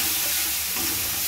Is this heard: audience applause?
no